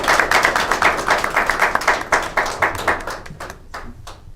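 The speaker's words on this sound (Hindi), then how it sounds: "बहुत जोरदार तालियां।" An audience in a hall at a UP Board exam strategy discussion claps in a fast, regular rhythm, loud and close, before tapering off into scattered claps at the end.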